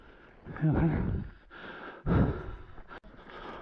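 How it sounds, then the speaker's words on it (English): Heavy, labored breathing in ragged gasps and exhales from a mountain biker riding a trail, close to the microphone, with rushing wind or movement noise underneath. "My breathing's starting to sound a lot more desperate."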